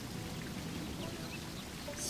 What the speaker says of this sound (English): how is it raining in a cave?